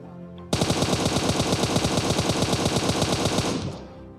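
M4 rifle fire in the video game PUBG: a loud, sustained burst of rapid automatic shots in an even rhythm, lasting about three seconds before cutting off, with no voice over it.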